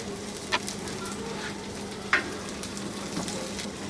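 Chilies sizzle steadily in hot oil with garlic in a pan, a continuous close frying hiss broken by two brief louder pops.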